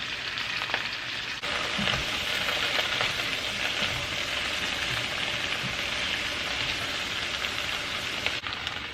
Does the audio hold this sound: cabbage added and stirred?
yes